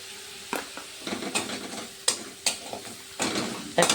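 Ground poppy seed, ginger and turmeric frying in a pan, a soft steady sizzle broken by several sharp scrapes and knocks of stirring against the pan.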